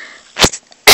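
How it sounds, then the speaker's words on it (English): A single sharp cough bursts out close and loud, followed moments later by a second abrupt explosive cough, with near silence between. "Sorry, guys, I coughed."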